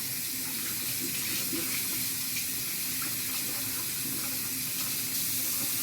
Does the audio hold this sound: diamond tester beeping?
no